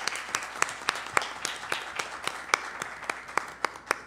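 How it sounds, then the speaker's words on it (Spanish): Members at an extraordinary assembly applaud, a thin, regular run of distinct claps, fairly faint, with a few hands beating in a steady rhythm. "yo sí creo que nos merecemos un aplauso todos"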